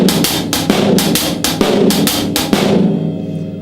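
A normal shuffle groove played on a drum kit, with swung cymbal strokes and snare backbeats falling twice as often as in a half-time feel, played loud and close before ringing out.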